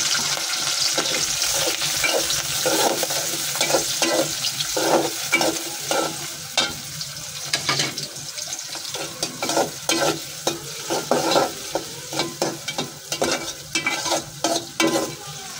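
Onions and spices are stirred in a sizzling pan with a quick, rhythmic series of spatula scrapes over a steady frying hiss, close and fairly loud throughout.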